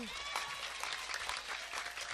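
Applause from an audience at an Indonesian Islamic religious lecture, a dense steady patter of many hands filling the whole stretch at moderate level, with no pause.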